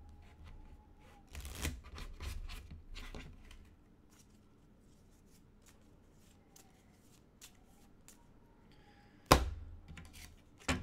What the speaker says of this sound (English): And then I shuffle my deck afterwards.